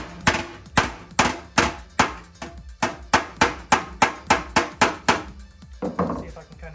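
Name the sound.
hammer off dolly work on Triumph Spitfire body panel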